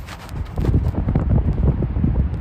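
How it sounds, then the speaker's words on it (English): Strong wind buffets the microphone in a snowy Chicago cityscape, a steady low roaring rumble with gusty pulses throughout, loud and close, with no talking. "wow, it is super windy here."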